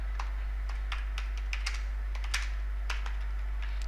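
A name being typed on a computer keyboard while setting up a VPN connection on Windows, heard as a close series of irregular, crisp key clicks over a steady low hum.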